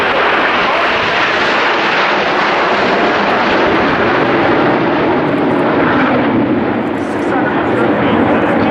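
Frecce Tricolori jets of the Italian Air Force fly an aerobatic display at an air show, giving a loud, continuous broadband engine roar that stays close and powerful throughout, with no lull.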